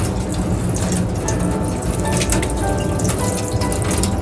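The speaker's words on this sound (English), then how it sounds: "Wash off the old soil with water." Running water rinses old soil off the roots of a pitcher plant being repotted, a steady splashing flow like a tap over a sink with scattered drips, fairly loud and close, with no talking.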